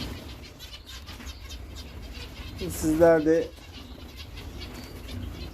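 Zebra finches flutter in a brief, close burst of wing flapping, with chirps in the middle, as someone speaks quietly.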